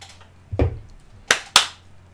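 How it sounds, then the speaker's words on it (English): A few sharp hand claps ring out in a quiet room during a tech podcast recording, with two bright, close transients in quick succession after a softer thump. "So I clapped."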